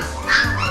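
A cartoonish puppy yelp from the Phoenix Wright: Ace Attorney video game, a single short, bright bark-like squeak lasting under a second, fairly loud over a faint background.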